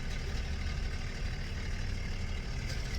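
A truck's engine idles close beside a stopped car, a steady low rumbling drone with no talk, fairly quiet and continuous.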